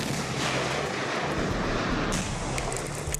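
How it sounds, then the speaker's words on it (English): An explosive breaching charge detonated by a Marine breacher, a loud, dense rumbling blast with heavy low-end roar filling the whole moment, followed by a further sharp crack. "they'll be required to do so using explosives"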